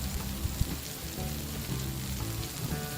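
Squid sambal fries in a pan with a steady, close sizzle and crackle, broken by a few sharp pops and the soft scrape of stirring, with no talk.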